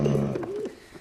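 A pigeon coos close by, a brief low throaty call that swells and slides before fading quickly.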